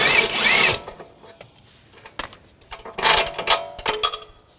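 A power tool or impact driver whirs on the lower shock bolt of an Audi S4 with a 21mm socket: a loud burst at the start, then a pause, then several shorter mechanical bursts and clicks, close by.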